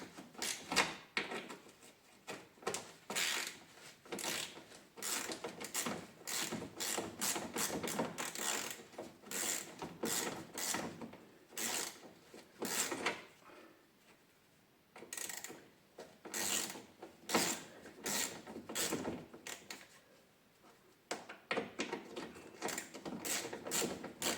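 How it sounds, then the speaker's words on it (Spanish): A ratchet wrench loosens 8 mm nuts on the front bumper of a Volvo V70, giving close, quick clicking bursts with short pauses between runs. "sacamos estos tornillos de aquí, las tuercas de 8 milímetros"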